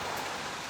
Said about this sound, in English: So it is raining today